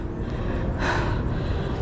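Heavy, labored panting at the top of a steep hill by a shrine, after a climb on Tombol Hill. Loud breaths run close and steady over wind-like noise, with one stronger gasp near the middle.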